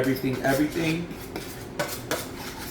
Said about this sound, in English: now we're gonna give it a good stir again